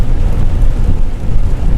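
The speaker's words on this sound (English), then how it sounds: "Well, now it's raining." Rain falls during a delivery drive, a loud, dense, steady wash of water and low rumble close to the microphone, with no voices.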